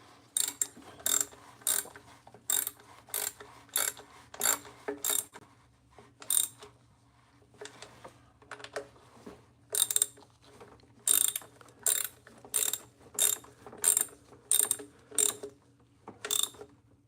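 A socket ratchet tightens bolts on a BMW 760Li V12 during coolant leak repair work, with rapid clicking bursts in close, regular strokes repeated many times with short gaps, under a low background hum.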